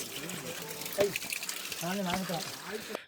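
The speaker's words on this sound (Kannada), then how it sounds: "ನೋಡಿ ನೋಡಿ ಮಿನಿ ಫಾಲ್ಸ್" A small forest waterfall on the Bandaj trek near Chikmagalur gives a soft, steady trickling hiss in the background. It is faint and sits under people talking nearby.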